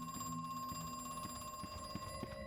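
A telephone rings in the horror video game Crow Country, a repeating electronic bell tone with steady pulses, heard alone at moderate level over a quiet hum.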